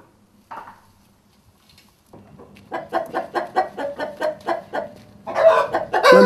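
Free-range farmyard chickens that roam open meadows cluck close by, starting with a lone cluck and then a rapid, rhythmic run of repeated clucks that grows louder toward the end.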